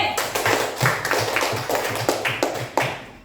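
Classroom of students clapping together for class B, a fairly close burst of rhythmic claps roughly every third of a second, steady and moderately loud with no talk over it.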